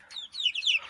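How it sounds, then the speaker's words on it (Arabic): Chickens clucking close by, a short run of bright, rising and falling calls in quick succession, with no talk over them. "هن 6 فوق ترى مال دجاج"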